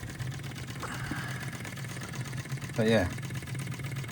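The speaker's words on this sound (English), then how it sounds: "how to run a OKMO Ryder Ericsson engine properly" An OKMO R01 Rider Ericsson hot air engine runs with a steady, soft mechanical hum and faint rhythmic ticking, close by, while someone speaks briefly over it.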